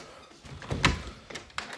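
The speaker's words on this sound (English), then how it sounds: "Shut the door." A door shut indoors in a house: one solid thunk with a brief rattle, fairly close and moderately loud, followed by a couple of lighter taps.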